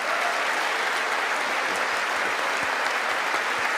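An audience applauds steadily after the king's address, a dense, continuous clapping heard at moderate distance without voices.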